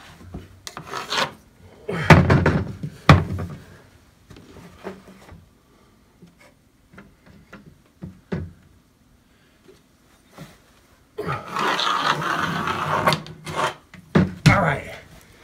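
A pencil scratches and rubs across drywall to mark a ceiling control joint, heard as dry, raspy strokes in short bursts and one longer scraping run, close up and with no voices.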